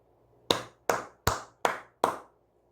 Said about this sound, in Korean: 삼성전자가 잘하고 있기 때문에 박수 한번 치고 가도록 하겠습니다